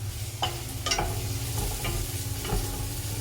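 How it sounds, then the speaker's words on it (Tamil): Onions sautéing in a pan with salt for mutton biryani give a steady close sizzle, with several sharp clicks or taps of a utensil against the pan spaced through it. "வெங்காயம் ஓரளவு நல்லா வதங்கிருச்சு"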